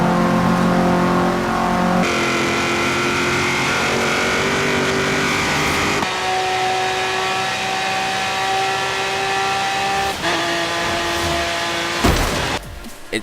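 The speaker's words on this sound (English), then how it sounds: "They really hit it home with the sounds of the cars." Car engines rev loudly in sustained bursts in the racing game Forza Horizon 3, pitch climbing and shifting with gear changes, ending in a brief rough roar near the end.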